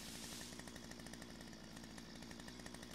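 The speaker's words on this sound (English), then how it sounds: "we'll just whip out the chainsaw" A video-game chainsaw in Lumberjack Simulator cuts into a tree, a loud, close, unbroken buzzing drone with a rapid rattling pulse and no talk.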